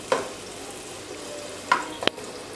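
Onions dropped into hot oil to lightly fry for a spring chicken macaroni dish, giving a steady hiss of sizzling cut by a few sharp clacks and scrapes of a stirring utensil.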